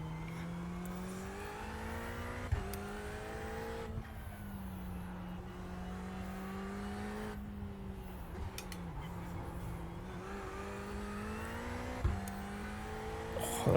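A race car engine in the iRacing sim holds a steady mid-pitch drone while cornering, dipping briefly around gear changes before rising again, with a faint voice in the background.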